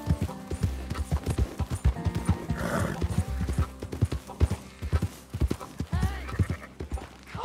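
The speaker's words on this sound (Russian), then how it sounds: "Так, это моя лошадь, да? Я еще и на лошади приехал." Horse hooves clip-clop in Red Dead Redemption 2, a steady run of sharp hoof strikes with a whinny partway through, close and loud under game music and ambience.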